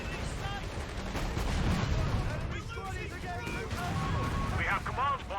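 A strafing run in Company of Heroes 3 brings a busy, rumbling stream of gunfire and blasts over a battlefield, with whistling and chirping game effects and a voice talking over it.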